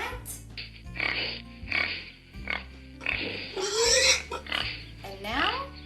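A pig on a farm grunts and oinks in short repeated bursts over a steady tonal backing, with a voice mixed in.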